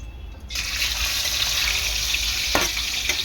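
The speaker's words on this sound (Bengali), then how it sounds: "মাছ তো এই ভাজা হচ্ছে" Rohu fish pieces fry in hot oil, a steady close sizzle and crackle that rises abruptly after a brief quiet start and holds evenly throughout.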